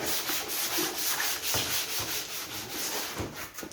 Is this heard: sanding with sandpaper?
yes